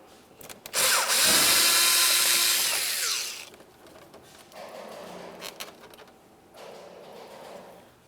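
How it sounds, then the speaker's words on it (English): A power driver unscrews a Phillips head screw from the window switch bezel on a 2000-2006 Chevrolet Tahoe door: one loud, close whir lasting about two and a half seconds, followed by quieter handling clicks. "we're going to remove this Phillips head screw"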